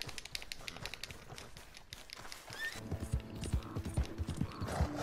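Horse hooves clip-clop in Red Dead Redemption 2, with a whinny partway through; the hoofbeats grow louder and more rhythmic in the second half, close by with no talk.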